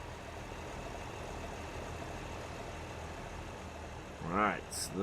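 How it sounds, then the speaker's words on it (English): A tractor engine idles in Farming Simulator 17 as a steady low rumble, with a brief voice cutting in near the end. "And as a workhorse, it's a cracking little tractor."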